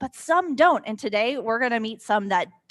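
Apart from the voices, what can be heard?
No everyday noises stand out.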